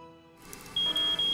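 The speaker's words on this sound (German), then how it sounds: "Bei festverdrahteten Meldern oder Funkmelder löst Rauch in einem Raum, etwa dem Kinderzimmer, bei allen Meldern Alarm aus" A household smoke detector alarm gives a loud, piercing high-pitched electronic beep repeating in short pulses after a brief quieter lead-in.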